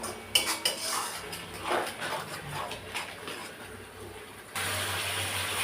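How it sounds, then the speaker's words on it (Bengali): Spice paste with tomato cooking down in a pan, with scattered metallic clinks and scrapes of a spatula against the vessel over a low background, then a steadier hiss near the end. "মশলাটা আরও কিছুক্ষণ কষিয়ে নেব, যাতে কাঁচা টমেটোর গন্ধটা চলে যায়"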